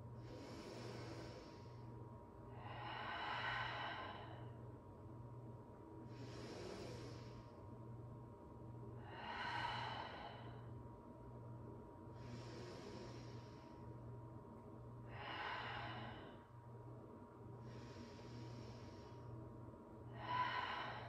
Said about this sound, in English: We're going to take about 5 more breaths here.